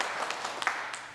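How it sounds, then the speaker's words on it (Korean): A church congregation applauding during a Sunday worship service, a brief patter of clapping heard at moderate distance in a reverberant hall. "우리 섬기시는 예배위원 우리 권사님들 박수 한번 할까요?"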